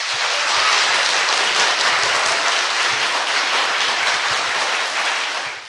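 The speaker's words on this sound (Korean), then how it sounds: "박수!" A crowd applauds loudly at a political event, steady dense clapping that fills the whole stretch before tapering slightly at the end.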